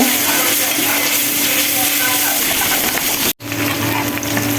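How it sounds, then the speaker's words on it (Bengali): Garlic, onion and dried red chili tempering in hot oil give a steady, close, loud sizzle and hiss, briefly cut off near the end before resuming. "এখন বাগার দিব একটু ফোড়ন দিয়ে, রসুন, পেঁয়াজ, সামান্য ফোড়ন, শুকনো মরিচও দিব"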